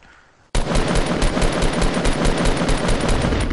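Sudden loud sustained automatic gunfire in Fortnite, rapid evenly spaced shots bursting in after a quiet half second and continuing without pause to the end.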